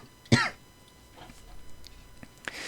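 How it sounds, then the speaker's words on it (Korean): A teacher giving a network security lecture coughs once, a loud sharp burst near the start, followed by quieter throat noises and a few small clicks in a room with light background hiss. "오늘따라 기침이 좀 심하네요."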